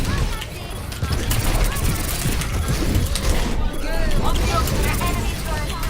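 Rapid mechanical gunfire from a deployed turret in Overwatch on Blizzard World, a dense continuous rattle of shots amid busy game effects and voices throughout.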